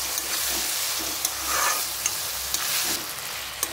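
Steady frying hiss with occasional spoon scrapes and taps as okra and tomato are stirred in oil for pickle.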